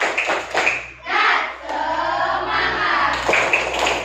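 A primary school class in Lampung performs a spirit clap chant, with rhythmic group hand claps and shouted chanting from the children close by, broken by short pauses between bursts.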